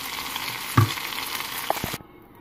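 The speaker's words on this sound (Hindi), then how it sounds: "मेरे पास थोड़े से पीसेस बचे थे, उनको मैंने फ्राइंग पैन में थोड़ा सा बटर या ऑयल डाल के" Chicken malai tikka pieces fry in butter or oil in a frying pan with a close, steady sizzle, a sharp clatter near the start and another knock later, and the sound cuts off abruptly at the end.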